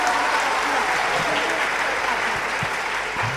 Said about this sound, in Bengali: একটা হাততালি।